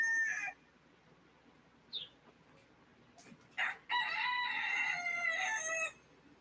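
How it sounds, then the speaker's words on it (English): A hen clucks briefly in a quiet farmyard, a few soft calls follow, then a rooster lets out a long, loud crow. "just listen to the cries to your hens"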